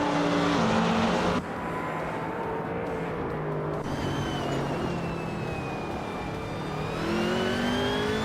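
Racing cars in a video game race roar past in a steady, dense engine drone, whining pitches rising and falling as they speed along, with no pauses and no voices.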